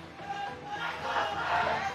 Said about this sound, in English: The crowd is going wild. Everyone is cheering for their favorite team.